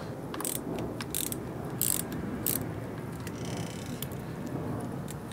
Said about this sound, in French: On va desserrer le shifter.